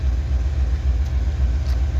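A six-axle AC diesel locomotive pulls a coal train past, giving a steady, loud, low rumble with a constant engine drone and no break.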